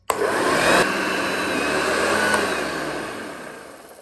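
A 1970 Hoover Junior Dirtsearcher upright vacuum cleaner whirs steadily and loudly after a sharp start, with a high whine and a rough rattling edge from its belt on the spindle's wider end, slowly tapering near the end.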